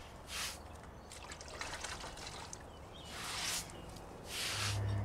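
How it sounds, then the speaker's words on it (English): A wet sponge and water are worked over brick steps, giving soft sloshing, dribbling and wiping sounds in a few separate bursts, quiet and close, with no talk. "Just get a sponge and water."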